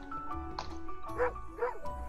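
A dog in the video game Moonlighter gives two short bark-like yips in quick succession over soft background game music, with a person talking faintly at the same time.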